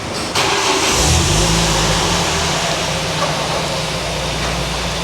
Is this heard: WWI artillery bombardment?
no